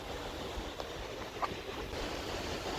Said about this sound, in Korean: 바람 불어서 지금 모래가 날리네요